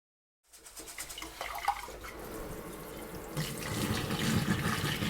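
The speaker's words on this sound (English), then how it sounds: "So you want to start first by washing your rice." Rice is washed under a running kitchen tap, with water splashing and rushing steadily after a silent start and growing fuller toward the end, close by.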